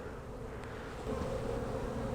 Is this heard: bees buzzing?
yes